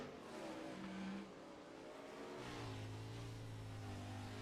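A 410 sprint car engine in a simulated race at Cedar Lake roars past, a steady loud drone that drops into a deeper, sustained tone partway through as it passes, with no talking.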